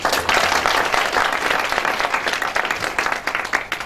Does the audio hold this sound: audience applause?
yes